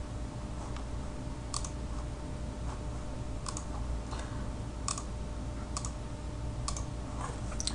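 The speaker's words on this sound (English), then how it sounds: "let's type in the characteristics" Keys clicking on a computer keyboard, a few soft irregular taps spaced over a quiet, steady background hiss.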